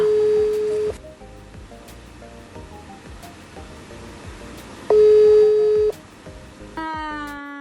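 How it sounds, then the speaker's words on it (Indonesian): A phone call is placed: tones sound and then a repeating ring signal follows, with the beeps clear and close against a faint background. "sekarang aku mau nelpon untuk bintang tamunya nih ya teman-teman"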